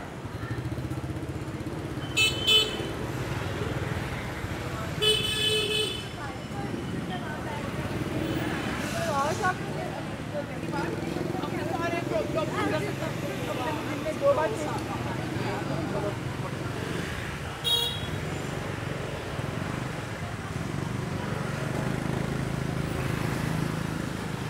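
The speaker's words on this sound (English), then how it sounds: "That's why you see a lot of motorbikes around." Morning street traffic in Hanoi, Vietnam: a constant rumble of motorbikes and cars with several short horn honks, heard beneath a person talking for most of the time.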